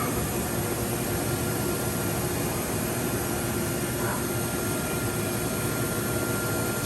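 A Johnford DMC-1200HN gantry machining center runs idle with a soft, constant mechanical hum and airy hiss, a steady quiet drone with no distinct events and no talking.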